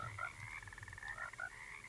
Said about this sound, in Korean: 역시 원작처럼 개구리가 등장합니다